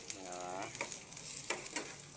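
Onion and garlic fry in a pan with a soft, continuous sizzle and a few light stirring taps, fairly faint and close, with a brief humming tone early on.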